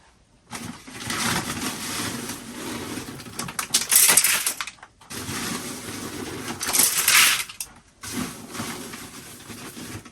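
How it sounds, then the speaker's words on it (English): Washed horticultural grit, small stones, poured from a big bag into a bonsai pot for a Japanese maple, two rattling, rustling pours of about four seconds each with a short pause between and a lighter trickle at the end. "Now what I might do actually is put a bit of horticultural grit in the bottom."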